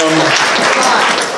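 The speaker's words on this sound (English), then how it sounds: "give your all selves a round of applause for taking the time to making this happen" Loud, close round of applause from a crowd at a convention's opening and closing ceremonies, continuous dense clapping with a voice briefly audible at the start.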